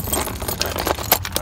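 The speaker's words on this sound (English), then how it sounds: "We got car keys." A bunch of car keys jangles close by in a scrap-yard setting, a run of light metallic clinks and rattles over steady low background rumble, with no talking.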